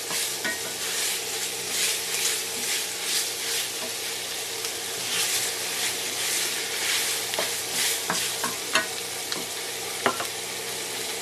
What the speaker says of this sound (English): About another minute of cooking up the meat.